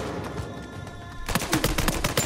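A burst of rapid AK rifle fire in Uncharted 4 starts abruptly after a quiet stretch, its sharp repeated shots continuing to the end.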